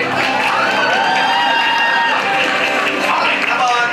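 An audience at a street performance in Taitung, Taiwan bursts into loud, continuous applause mixed with cheers and shouts, a dense crowd roar filling the whole moment.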